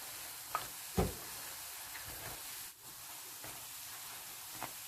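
Thai fish cakes deep-fry in hot oil, giving a steady, close, broadband sizzle and hiss with a few sharper pops and bubbling bursts scattered throughout, and no talking.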